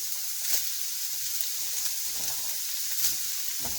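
Ground beef and green beans sizzle steadily in a pan, a constant bright hiss with soft stirring clatters now and then, close and alone.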